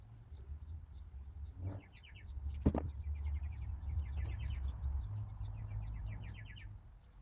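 Robins chirp in quick, repeated bursts of high notes over a low steady hum, with one sharp click partway through.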